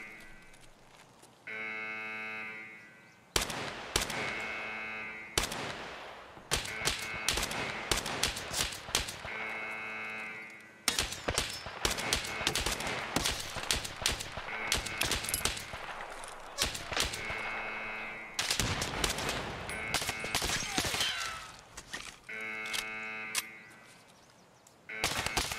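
Gunfire in Escape from Tarkov, arriving in repeated bursts of sharp shots, some dense and rapid, broken by short quieter gaps and a recurring tonal buzz, loud throughout the stretch.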